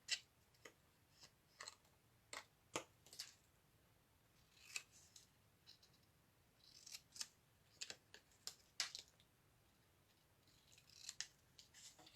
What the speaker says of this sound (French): On va ensuite couper les petites lamelles en biseau.